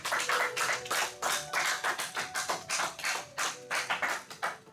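A church congregation claps loudly together in praise, a fast steady run of close hand claps in rhythmic bursts, with no speech over it.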